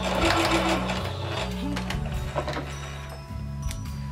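A sewing machine stitches elastic, its motor running in short loud bursts of rapid needle hammering with brief pauses between passes, close and alone.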